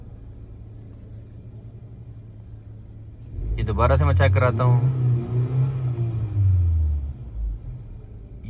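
Car engine revving up and then sagging, its RPM dropping and stumbling with misfires as if about to stall, a vehicle with a crank-no-start fault; loud close rumble rising midway and wavering, with someone talking over it.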